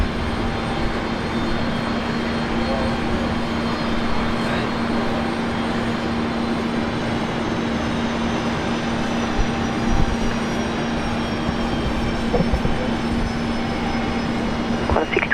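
An airliner climbs out after takeoff from Brisbane Airport. A continuous broadband engine roar holds steady with a constant low hum, with no speech.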